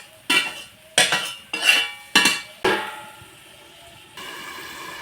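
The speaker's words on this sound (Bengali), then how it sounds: "একটু নাড়াচাড়া করে আমি 5 মিনিটের জন্য ঢাকা দিয়ে দেব।" Goat meat being stirred in a metal pot, a string of sharp spoon-on-pot clanks and scrapes in quick succession, then a clattering lid set down, followed by a low simmering hiss, close and loud.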